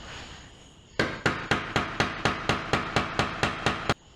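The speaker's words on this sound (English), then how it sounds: "I just got to nail the trim up." A dozen or so evenly spaced, sharp hammer blows drive nails into trim around a pull-down attic stair, each strike loud and close, with no talking.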